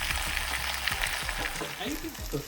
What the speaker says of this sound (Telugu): పీస్ ఇలా గోల్డెన్ బ్రౌన్లోకి వచ్చేంత వరకు ఫ్రై చేసుకోవాలి